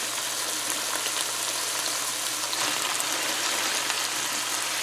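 Cabbage hits a hot pan with chicken for stewed cabbage, giving a loud, steady, close sizzle and frying hiss that carries on without pause.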